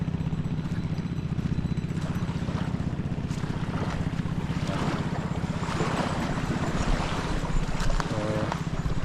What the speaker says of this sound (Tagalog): may mga parating na mga bangka.